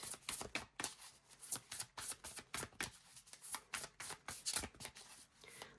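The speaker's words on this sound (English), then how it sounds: "The shuffling sometimes takes a little longer" Tarot cards are shuffled over and over by hand: a long, steady series of quick papery slaps and riffles, close and fairly soft, with no voices.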